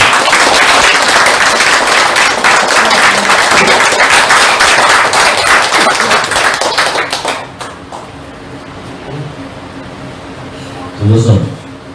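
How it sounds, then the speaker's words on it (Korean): Members at a Korean Our Republican Party regional education meeting burst into loud, dense applause that fades out after about seven seconds, followed by quieter room sound and a brief voice near the end. "두 분이 빨리 완쾌하시라고 한번 박수 한번 해주세요."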